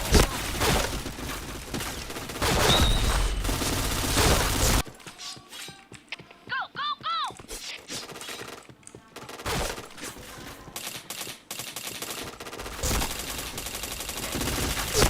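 Gunfire in a video game rattles in dense, rapid bursts, loud at the start and end with a quieter gap of scattered shots and sound effects in between, with brief game voice announcements.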